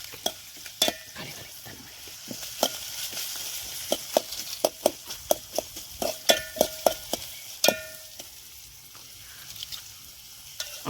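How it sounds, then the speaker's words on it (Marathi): Onion sautéed in a pan until browned for a Maharashtrian crab curry, with a steady soft sizzle under repeated sharp scrapes and clinks of a spoon stirring against the metal pan, close and without talk. "कांदा आपण चांगला आता लाल परतून घ्यायचा आहे"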